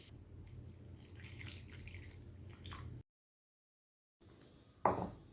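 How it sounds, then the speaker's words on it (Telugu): Water trickles and drips as pumpkin, sunflower and watermelon seeds are rinsed in a small strainer, a steady splashing wash that breaks off into a brief silence, then resumes with a sharper splash near the end. "ఇలా స్ట్రైనర్తో వాష్ చేసుకోవడం ఈజీగా ఉంటుందండి."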